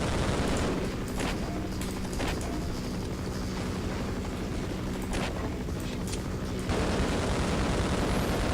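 Gunfire rattles in a video game on a map called The Kraken, a dense, loud, continuous barrage with sharper shots standing out over the steady roar, then a short change in texture near the end.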